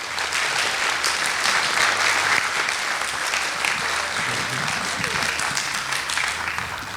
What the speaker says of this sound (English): let's have a big round of applause for all of our candidates